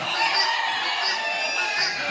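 Dense poultry chatter of many chickens clucking together on a poultry farm that also keeps ducks, with a rooster's crow rising faintly through the steady, busy din.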